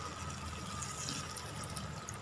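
Water runs steadily into a cooking pot of ridge gourd, potato and poppy-seed curry, a soft, continuous, fairly faint gush and trickle without pauses or voices.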